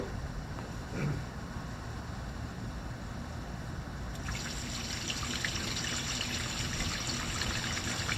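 Water runs from a hose into a boat in a steady, hissing stream that grows fuller partway through and keeps flowing without pause.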